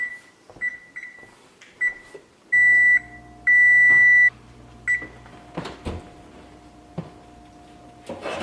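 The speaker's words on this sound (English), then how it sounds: "I'm going to set the timer for a half hour." A kitchen timer chirps in short, repeated high beeps as it is set for baking no-knead bread in the oven, with a steady electronic hum and a few soft clicks and knocks between the beeps.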